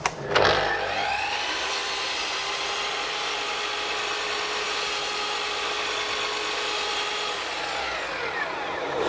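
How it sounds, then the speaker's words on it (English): A mitre saw runs up and cuts a dado across plywood, a loud steady whine of blade and motor lasting about seven seconds before spinning down, with no talking. "I'll do the dado on the other side, not using the spacer blocks to bring it forward."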